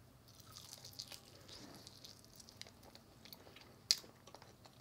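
Someone chews Ashley sweet combo chicken tossed in honey soy sauce, with soft crunching and mastication sounds close to the mic and one sharp crisp bite near the end.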